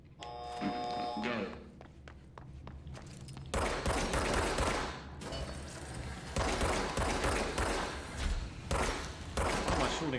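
Gunfire on a shooting course in the video game Control: sharp single shots early, then dense rapid bursts of firing that carry on loudly, with talking mixed in.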